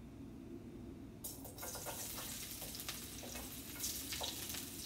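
Oil sizzles and pops in a hot, smoking pan as garlic and shrimp go in, a steady crackling hiss that starts suddenly and continues with scattered sharp pops.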